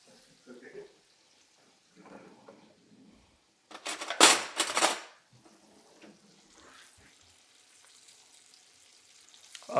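Butter hitting a hot steak pan and sizzling, a loud sharp burst of frying near the middle that fades quickly, with quiet speech and faint kitchen clatter before and after.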